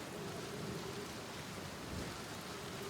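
Steady rain falls on a high-gravity planet in the video game Outer Wilds, a soft continuous hiss spread evenly through the whole stretch with faint low rumbling beneath, no voices.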